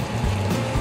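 Boat engines on a Piata-type vessel maneuvering without a rudder, a continuous low rumbling drone mixed with rushing water, close and steady throughout.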